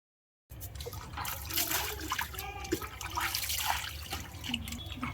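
Running water splashing steadily as leaves are washed, starting abruptly after a brief silence and continuing with gurgles and drips, close and fairly quiet.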